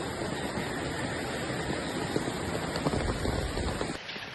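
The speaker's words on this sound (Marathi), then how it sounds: "एवढ्या पावसामुळे" Steady, dense monsoon rain in rural Konkan pours down in a continuous wash of noise, close and loud, with no voices.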